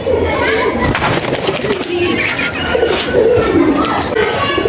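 Madras pigeons coo and flutter close by, with repeated throaty calls over a busy background where children's voices and chatter can be heard.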